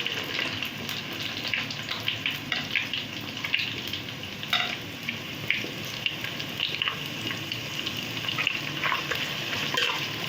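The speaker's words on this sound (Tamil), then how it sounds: "இப்போ இந்த வெங்காயம் பார்த்திங்கன்னா நல்லா பொன்னிறமாக வரணும். அது வரைக்கும் நல்லா வதக்கிக்கலாம்." Onions sautéing in a pan sizzle steadily with scattered stirring clicks and scrapes, a close, fairly quiet cooking hiss with no speech.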